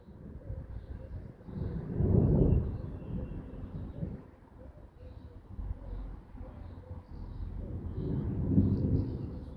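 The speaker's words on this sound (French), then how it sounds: "Il va être violent cet orage." Deep thunder from a violent thunderstorm, rolling in two heavy rumbles a few seconds apart over a steady backdrop of wind and rain hiss, fairly loud and close.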